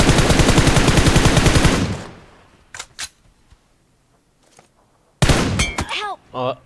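An M4 rifle in PUBG Mobile fires a fast, loud automatic burst lasting about two seconds, followed by a few isolated shots and clicks, then another burst of gunfire with in-game effects.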